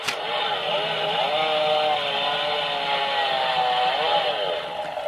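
Electronic revving chainsaw effect from a Power Rangers Ninja Master Blade toy, a steady buzzing drone that holds for about five seconds with slight pitch wobbles, loud and close, with no talking.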